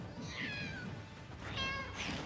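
A cat meows twice in Elden Ring Nightreign, two clear drawn-out calls separated by a short pause, close and fairly quiet over faint background noise.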